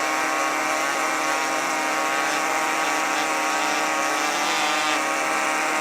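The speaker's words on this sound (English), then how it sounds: "using a smaller air scribe to accomplish the matrix removal" A small pneumatic air scribe chips rock matrix off a thin-boned fossil skull in a prep lab, giving a loud, continuous high buzzing whine held steady throughout.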